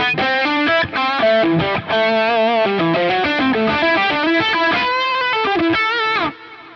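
An electric guitar through a Boss Metal Zone distortion pedal plays a busy run of notes and chords, loud and saturated, ending with a held note that fades out.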